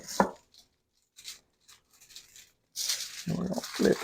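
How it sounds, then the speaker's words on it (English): Hands pat and rub seasoning over a Boston butt pork roast, making close, irregular slapping and brushing sounds in short bursts separated by quiet gaps, growing busier toward the end. "We're going to pat it down, get it all up in there, get us a good coating on it."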